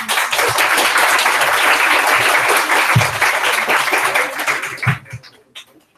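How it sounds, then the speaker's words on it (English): A room of delegates at a UN Economic and Social Council session gives a loud, sustained round of applause that holds steady for several seconds, then thins out and trails off into a few scattered last claps. "Round of applause."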